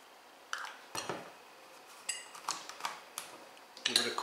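A spoon stirs a pan of maple syrup glaze for chicken, giving a handful of scattered metallic clinks and scrapes close by in an otherwise quiet kitchen, with no one talking.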